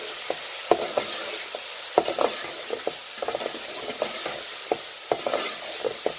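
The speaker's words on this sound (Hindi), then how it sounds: "लहसुन अदरक का 1 चम्मच जो पेस्ट है वो शामिल कर देंगे, और 2-4 मिनट के लिए हम इसको भूनेंगे।" Ginger-garlic paste and spices frying in a pan for palak chicken, a constant bright sizzle punctuated by frequent spatula taps and scrapes in an uneven rhythm, close and clear, with no voices.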